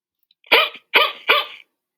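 A recorded dog bark played three times by a phone app, each short burst evenly spaced and clear with nothing else around it.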